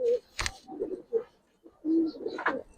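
High-flyer Giribaz pigeons coo close by in several short, soft throaty calls separated by brief pauses, with some faint rustling in between.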